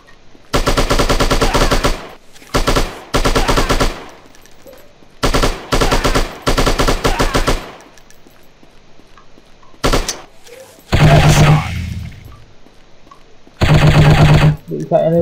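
Video game gunfire in Striker chapter 3, loud sustained automatic bursts of rapid shots broken by short gaps and a few single shots.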